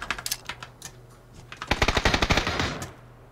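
Gunshots from the video game PUBG Battlegrounds: a few scattered single shots, then a rapid burst of around a dozen evenly spaced loud reports, fading into quiet ambience.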